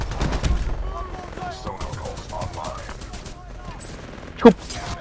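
Gunfire in the video game Titanfall 2, bursts of weapon shots with a sharp loud blast near the end, mixed with game effects while a player talks over it.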